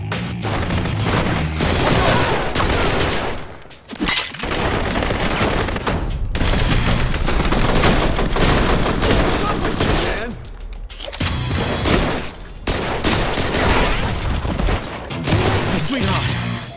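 Sustained gunfire in the shooter video game Blue Estate, loud and dense bursts running almost without pause, with a couple of brief drops between volleys and some in-game voices mixed under the shooting.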